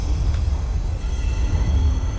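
An NYC Subway R68 train rumbles steadily along the track in the OpenBVE simulator, a continuous low mechanical drone with faint high whine above it, running alone at an even loudness.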